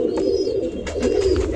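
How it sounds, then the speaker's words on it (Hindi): A pigeon sits in a corner cooing, a steady low throaty coo close by that runs through the whole moment, with faint higher chirps above it. "और अभी अभी हम देखे कि यहाँ पर एक कबूतर कोना में बैठा हुआ है।"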